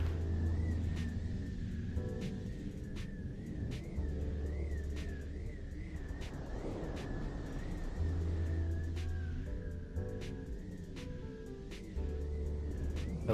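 A Spirit dropship flies off in Halo 2, its engine a steady rumbling drone with a wavering whine and regular ticking pulses layered on top, continuing evenly with no talk.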